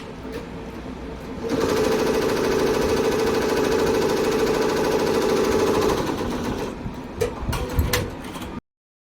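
An embroidery machine stitches a design on light pink net fabric, a steady, fast mechanical chatter that starts abruptly, runs loud and close for several seconds, then slows into uneven clicks and stops.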